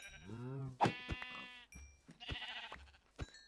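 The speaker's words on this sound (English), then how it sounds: "it does attack the sheep" Sheep in Minecraft give short, close bleats as they are struck, several sharp cries in a few seconds with light game clicks between and no speech.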